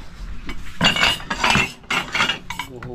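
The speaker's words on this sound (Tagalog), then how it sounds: "huhugas naman tayo ng plato" Plates and cutlery clink and clatter in a few short bursts while dishes are being washed, close and fairly loud with no talking.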